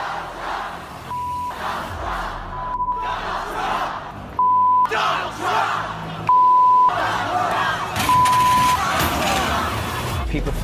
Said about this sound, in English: People filling the streets in America's cities, protesting President-elect Donald Trump